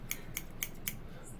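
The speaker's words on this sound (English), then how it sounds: "Trying to use the same technique on the computer screen using the scissors" Four quick, evenly spaced snips of scissors cutting, crisp and faint, each a short metallic click at about a quarter-second interval.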